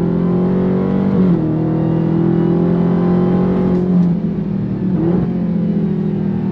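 A 2023 Dodge Charger Jailbreak Hell-Bee's supercharged engine revs and pulls hard under throttle, a loud sustained drone with pitch shifts as it shifts gears, heard close and alone without talk.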